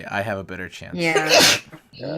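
A sneeze bursts out loud and close amid conversation during play of the Telltale Batman: The Enemy Within game, with people talking before and after it.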